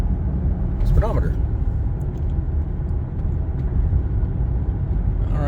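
A 2005 Chevy Avalanche four-wheel drive pickup on the road, its engine and tire rumble a steady low drone from inside the cab, with someone talking over it.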